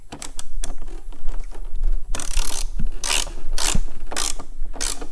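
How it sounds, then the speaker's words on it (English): A ratchet tightens the engine guard on a 2022 Harley-Davidson Road Glide, with rapid clicking runs early and then several loud bursts of ratcheting strokes spaced about a second apart, close up. "I'm going to use the ratchet"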